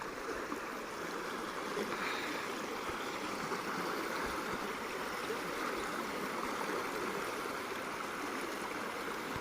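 River water below the Girna dam rushes in a steady, broad, continuous flow, moderately loud and unbroken, with no voices heard.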